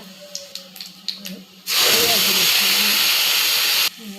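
Dried red chillies and a pinch of asafoetida hit hot oil in a kadai with a sudden loud, steady sizzle that runs a couple of seconds, after a few soft clinks and taps.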